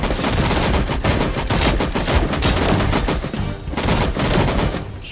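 Rapid bursts of automatic gunfire in a shooting video game crackle loudly and densely, shot after shot in quick overlapping volleys with only brief lulls, alone without talking.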